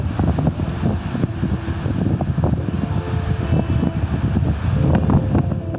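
Cold wind blows steadily across a mountain plateau near Cucamonga Peak, a loud low rumbling buffet with gusty fluctuations, heavy against the microphone and with no voices.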